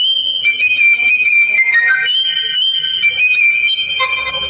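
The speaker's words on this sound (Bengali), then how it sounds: "একটা রিংটোন থাকবে প্রথম রিংটোনটা একটু শুনেন" The first built-in ringtone of a basic button phone plays steadily, a loud synthetic melody of held electronic tones that shift pitch, with no talking over it.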